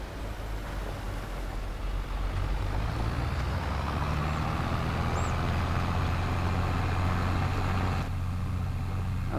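Tractor in Farming Simulator 22, a heavy diesel engine running steadily and fairly loud as the vehicle drives off to hitch a manure spreader, a continuous low rumble alone without speech.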